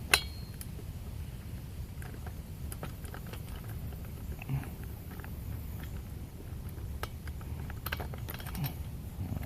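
Faint clicks, ticks and metallic scraping come from a socket tool working an old spark plug loose from a Stihl FS 45 string trimmer, set against a low background hum.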